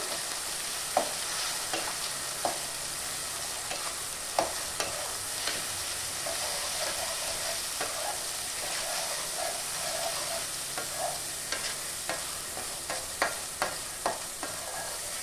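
Masala for egg curry sizzles steadily in a hot pan, with a spoon stirring and scraping in repeated short strokes over the constant frying hiss. No voices are heard.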